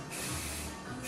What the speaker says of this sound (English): I'm just spray painting the top of these